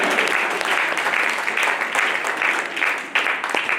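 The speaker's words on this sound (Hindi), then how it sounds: "देखो कुछ लोग ताली बजा रहे, बाकी को मजा नहीं आ रहा।" A congregation clapping at a revival meeting in Rajasthan, dense continuous applause from many hands filling the space for a few seconds, with faint voices underneath.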